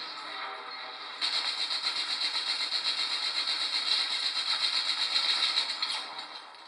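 An enemy vehicle's engine in the video game Battlefield 3 roars up suddenly and holds a steady, loud mechanical drone with rhythmic pulsing before fading slightly at the end.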